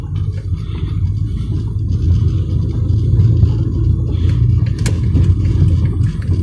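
A car driving onto a highway on a provincial road, a steady low engine and road rumble from inside the vehicle, continuous and fairly loud, with no talking.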